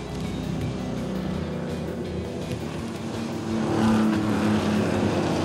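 Classic pre-1984 sports and GT cars, Trans Am and thoroughbred racers race on a circuit, a steady layered engine roar that swells louder near the end as cars pass close.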